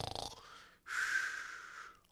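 A voice imitates a person snoring loudly, with a rough inhaled rasp followed by a long breathy snore, close and alone.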